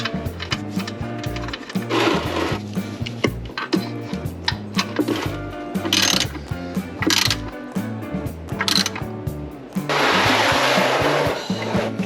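A ratchet tightens a bolt on a Toyota 4Runner, with rapid pawl clicking in repeated bursts amid clattering mechanical noise. The sound is close and fairly loud, with no voices.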